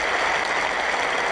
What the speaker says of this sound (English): This crowd rise on their feet to applaud